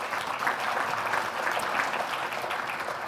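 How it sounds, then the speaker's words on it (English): Steady applause from a crowd, a dense even patter of clapping that holds at a constant level throughout. "So a little round of applause for that."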